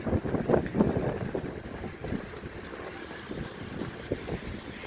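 Wind blowing outdoors in light drizzle makes a steady breathy rush with stronger gusty thumps at the start, then settles to a softer continuous whoosh.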